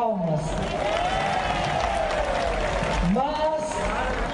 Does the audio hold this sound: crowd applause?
yes